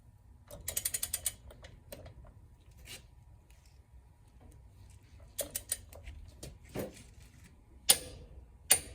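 Ratchet wrench torquing the outer wheel nut to 300 foot-pounds on a Kenworth W900 truck during a front wheel seal job, giving a close burst of rapid clicks near the start, then scattered clicks and sharp metallic clanks later, with no talking.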